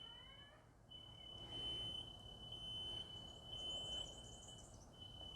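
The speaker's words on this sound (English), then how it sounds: "Okay, smoke alarm's gone off again." A shrill, high-pitched electronic alarm tone sounds steadily throughout, fairly faint against a low background hum, with no voices.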